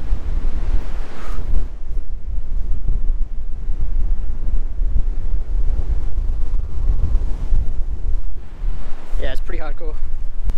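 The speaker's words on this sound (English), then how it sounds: "It's just really windy." Strong gusting wind buffets the microphone in a mountain valley that channels it, a constant loud low roar running throughout, with a brief lull near the end and a few faint higher tonal squeaks.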